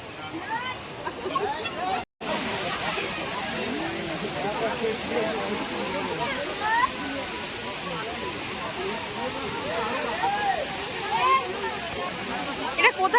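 Water flows and rushes steadily at an outdoor spot in Purulia, a continuous splashing wash heard close by, while people talk over it throughout.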